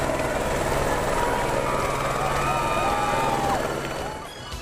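A helicopter carrying a farmer's son and his new bride home after their wedding in Dhaulana, Uttar Pradesh, roars loud and close with a continuous rotor and engine drone that eases slightly at the end, with faint voices mixed in.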